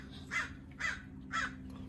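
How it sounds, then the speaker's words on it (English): A crow gives three evenly spaced caws at a steady distance over a low, constant background hum outdoors by a grill. "It's a crow."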